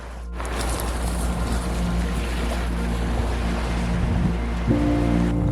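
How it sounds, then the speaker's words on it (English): Ocean waves rolling onto a beach in mid Wales make a loud, steady roar of surf with wind noise, continuous throughout and no talking. "have a little walk along the beach with Endy and just take in the view"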